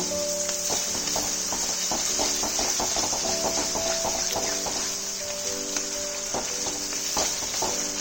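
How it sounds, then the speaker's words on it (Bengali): Spice paste sizzles and fries in a pan with a little water added, while a spoon stirs it for a cabbage dish, making a steady loud hiss with rhythmic scraping taps throughout. "মশলাটা যাতে পুড়ে না যায় তার জন্য আমি এখানে 2 টেবিল স্পুনের মতন জল অ্যাড করে মশলাটাকে ভালো করে কষিয়ে নেব।"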